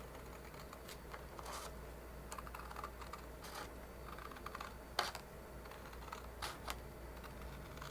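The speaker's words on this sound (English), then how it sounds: "I'm going to just go ahead and use my scissors to trim along" Crisp, irregular snipping clicks of scissors cutting through paper close by, over a faint steady hum.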